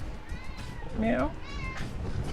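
A cat meows once with a rising, drawn-out cry, while a person talks around it in a quiet room.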